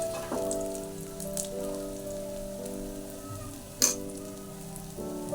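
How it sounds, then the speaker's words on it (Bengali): Chopped onion and a spice mix sizzle faintly in hot oil for a cabbage curry, a soft, steady crackle with one sharp clink partway through. A low tonal hum runs underneath. "একটু তেলে পেঁয়াজটা ভাজা ভাজা করে নিলাম আর তারপরে এই মশলাটি দিয়ে দিলাম"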